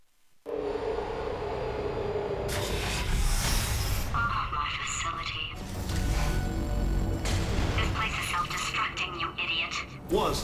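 A low rumbling tremor shakes the Portal 2 test facility, heavy bass surges rolling in twice and lingering under a synthetic-sounding voice speaking over the shaking.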